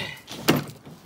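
A door swung shut, a single short, fairly quiet thunk landing in the middle of a brief moment of low background noise.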